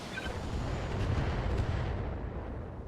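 Mech weapons from the BattleTech game pound a turret with a deep rumbling barrage of booming blasts that swell and fade across the moment, no voices.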